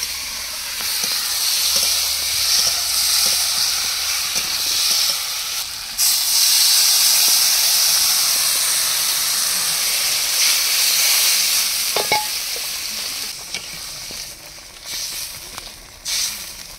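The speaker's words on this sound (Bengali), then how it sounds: "আদা রসুন আর পেঁয়াজ দিয়ে আলুগুলো কষিয়ে নিয়েছি। এবার জল দিয়ে দেব।" Water goes into potatoes frying with ginger, garlic and onion in a village kitchen. A loud, close hissing sizzle surges sharply partway through, with occasional stirring clicks as it settles.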